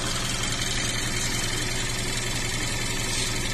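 A 2016 Hyundai Elantra with an intermittent hot-stall fault idles steadily up close, a continuous, even engine drone with a faint rhythmic pulse and no speech.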